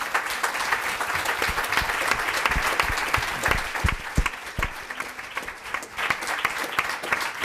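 Sustained audience applause at the seventh Alquimia de la Felicidad forum, a dense, steady clapping from a large crowd lasting throughout, with occasional louder individual claps standing out near the front.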